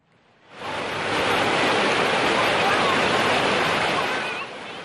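The Cikarang River in Sukabumi, running fast after a flash flood, roars as a loud, dense, continuous wash of rushing water that swells in quickly and holds steady.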